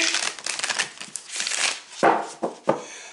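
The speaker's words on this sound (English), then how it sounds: "So we will shuffle, shuffle, shuffle, shuffle, shuffle." Tarot cards being shuffled close by, a rapid papery riffling followed by a few separate slaps and rustles, with no talking.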